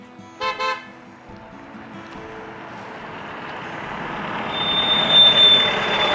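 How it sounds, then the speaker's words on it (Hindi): A vehicle horn sounds in two short toots near the start, then a low rumbling engine and road noise build up steadily, with a high whine near the end. "हॉर्न वाजवू नका बरं. हा आता वाजवली परत वाजवू नका हॉर्न."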